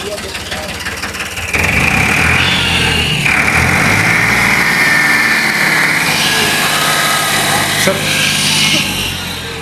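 A tractor engine, a Farmtrac 45 or Swaraj 855, idles, then revs up into a louder, sustained rumble with shifting whine, while people speak over it nearby.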